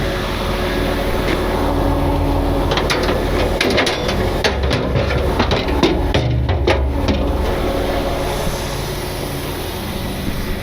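Sledgehammer blows ring out in a loud outdoor logging setting, a string of sharp impacts over a constant roar of machinery.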